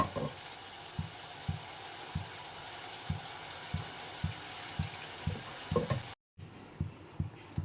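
Ground beetroot paste with water fries with sautéed onions in a pan, a soft steady sizzle broken by regular stirring scrapes of a spoon, quiet and close.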